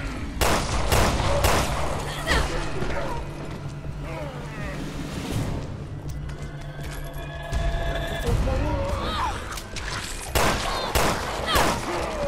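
Gunfire in Resident Evil Revelations 2, several sharp loud shots spaced across the scene with echoing tails, mixed with ambient game sounds and a voice speaking.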